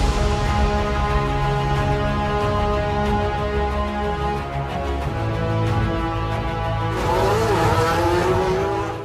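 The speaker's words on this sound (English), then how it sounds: "the Mercedes Formula 1 car." Mercedes Formula 1 race car driving, a loud sustained high-revving engine whine with shifting pitch and a rising tone near the end, close and alone.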